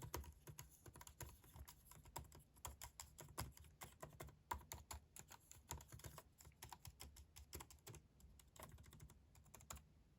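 Quick, soft clicks of someone typing on a MacBook Pro 14-inch M4 laptop keyboard, with irregular bursts and brief pauses, close up and quiet, with no voices.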